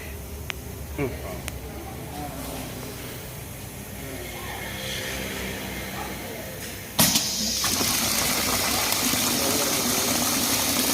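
An oil and juice filling machine dispenses liquid in a continuous gushing pour with pump noise, set to fill up to about a litre, and a sharp click before the flow gets louder; someone talks throughout.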